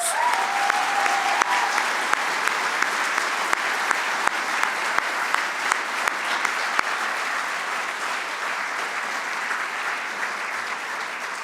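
Sustained applause from a civic audience fills the hall for over ten seconds, a thick, even roar of clapping with a few sharper claps standing out early on, then holding steady to the end.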